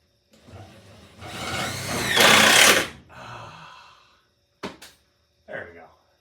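A power drill drives a screw into an HO scale model train layout's overhead yard: a loud, rising whir lasting a couple of seconds, a quieter tail, then two short separate bursts of the motor.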